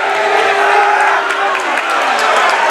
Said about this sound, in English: The crowd is not happy.